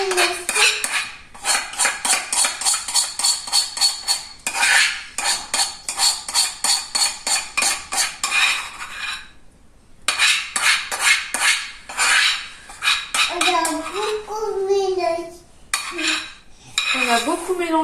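A spoon stirs a sourdough starter mixture inside a jar, giving fast, regular clinking and scraping strokes in long bursts with brief pauses, close and fairly loud, with a voice chirping near the end.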